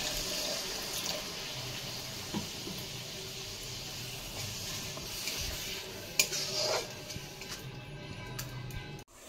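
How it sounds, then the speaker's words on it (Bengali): Water poured into a simmering pineapple curry in a kitchen pot, a soft continuous splashing and gurgle that stays fairly quiet, with a few small clinks of utensils and a short louder splash near the end. "এখন আমি জল দিয়ে দেবো"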